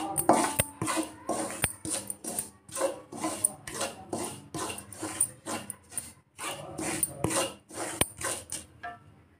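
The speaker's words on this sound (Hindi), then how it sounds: "इसे अच्छे तरीके से भून लेते हैं" Semolina (sooji) roasting in a pan for banana barfi, with a spatula scraping and stirring in steady, repeated close strokes that keep a gritty, rhythmic scrape going throughout.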